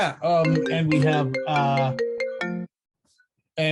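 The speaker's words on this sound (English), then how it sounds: "phone call came in there" A phone ringtone sounds loud and close for an incoming call, a bright melodic tune that plays for about two and a half seconds, stops briefly, then starts again.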